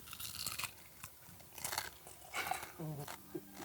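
Crunchy bites into the head and skull of a swallow bought at an animal market in Vietnam, several sharp cracks and chewing sounds close up, with people talking quietly in between.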